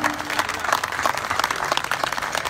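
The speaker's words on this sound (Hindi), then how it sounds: "बजाए तालियां" A crowd claps steadily, a dense wash of applause that holds at even loudness throughout.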